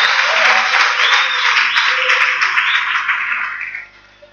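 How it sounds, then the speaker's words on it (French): Applause breaks out in a church congregation during a sermon on faith and deliverance, a dense wash of clapping that holds steady and then fades out near the end. "Applaudissons fort."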